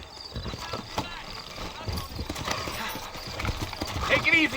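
Horses clip-clop steadily and whinny in a Western-era town in Red Dead Redemption, the hoofbeats close and rhythmic beneath ongoing character dialogue, with a louder whinny near the end.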